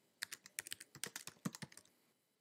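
Rapid keystrokes on a computer keyboard, a quick burst of about fifteen crisp, faint clicks in an uneven rhythm that ends in quiet.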